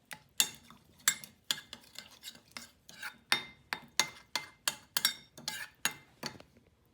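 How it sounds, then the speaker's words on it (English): Utensil stirring Dan Dan noodle base sauce in a bowl, a rapid run of sharp clinks and taps against the bowl in a steady rhythm, close and moderately quiet. "So I'll mix everything. This is the base sauce."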